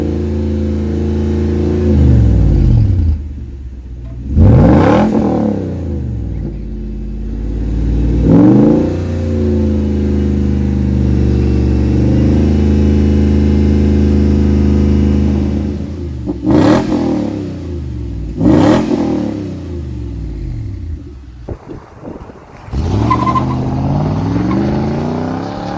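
Several sharp throttle blips from a 2006 Toyota Tundra's 4.6L V8 fitted with a catback exhaust rise and fall between stretches of idle, the revs coming singly and in quick pairs, loud and close with no speech.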